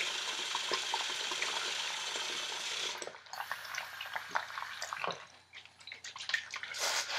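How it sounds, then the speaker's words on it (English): A horse brush is dipped and worked in soapy water in a tub, first with a steady wash of splashing and running water, then with close, intermittent sloshes, drips and scrubbing noises. "Just kind of dip your brush in and just kind of work it in like this."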